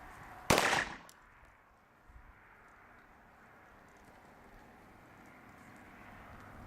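A single sharp pistol shot cracks out loud and close at a CCW qualification range, trailing into a brief echo and then quiet outdoor ambience.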